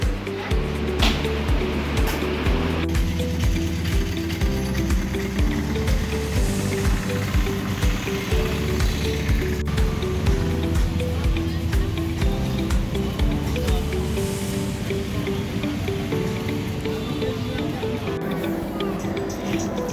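A boat ride on the water in Kochi, with a steady rumble of the engine and the rush of water running throughout, and voices talking faintly over it.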